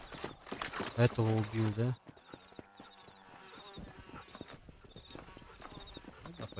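Horse hooves clip-clop at a steady walking pace in the video game Red Dead Redemption, a faint repeated clatter that follows a burst of louder game sound, while players talk over it.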